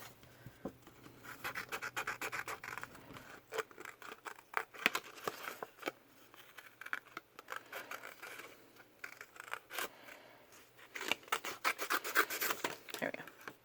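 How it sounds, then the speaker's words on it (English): Scissors snipping through card along a traced shape, close up, with steady repeated crisp cuts and rustling of the card that come in bursts with short pauses. "and trace this out onto it. And I'm going to cut it out."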